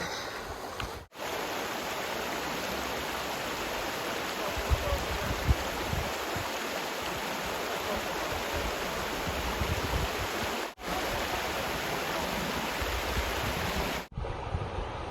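Steady rushing creek water in Malibu Creek State Park in January flows continuously and fairly loudly, a constant broad wash with no voices.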